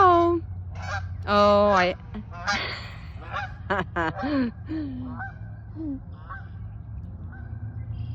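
Geese honk repeatedly in loud, close bursts, some calls overlapping, while a person briefly exclaims over them.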